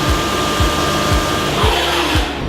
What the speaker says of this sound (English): We do most of our milling and our custom handle parts on these machines.